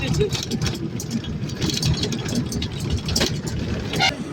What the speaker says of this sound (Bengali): এই বাসটাতে আমরা এলাম।